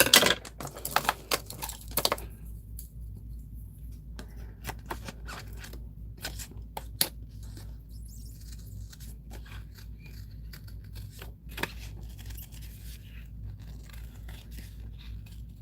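Scissors cutting paper for a collage, scattered crisp snips and rustles, a dense cluster at first and then sparse, irregular clicks over a quiet low background hum, close and fairly faint.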